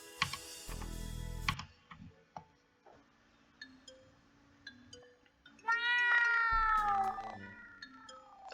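A cartoonish cat meows in the video game Gensou no Keifu - Hajimari no Miko, with a bright drawn-out mew near the end among scattered clicks and short game tones, fairly quiet.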